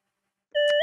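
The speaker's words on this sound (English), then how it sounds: "why do your notifications sound like that?" A phone notification chime sounds once near the end, a short bright electronic tone that rises abruptly out of silence, loud and close.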